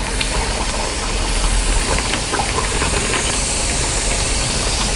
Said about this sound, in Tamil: மீடியம் ஃப்ளேமில் வச்சுட்டு நம்ம பொரிச்செடுக்கணும்